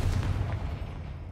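Confringo blasting spell cast in the Hogwarts Legacy video game, a short booming burst with a dense low rumble that fades over about a second, with no talking over it.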